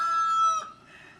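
A pet rooster gives a single short, loud, close crow that breaks off abruptly after about half a second, leaving a faint quiet tail.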